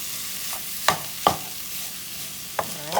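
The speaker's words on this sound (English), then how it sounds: "now the seasonings have cooked, so I don't want them to burn. That's why I incorporate the meat." Meat and seasonings sizzle steadily in a pot on a keto cooking stove, with several scraping stirs of a utensil cutting through the close, constant frying hiss.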